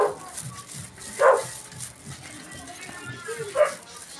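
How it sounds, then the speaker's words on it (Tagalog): A dog barks a couple of times at middle distance, sharp yelps rising above background chatter and street noise. "May aso ang ingay,"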